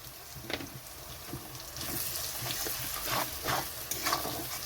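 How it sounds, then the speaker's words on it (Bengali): Salt, Kashmiri chilli powder and cumin powder fry in a pan while being stirred, giving a soft, quiet sizzle broken by intermittent scraping strokes from a spoon. "মশলাটা দিয়ে একটু ভেজে নিতে হবে হালকা"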